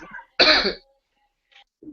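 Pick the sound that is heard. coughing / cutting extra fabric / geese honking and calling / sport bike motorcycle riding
coughing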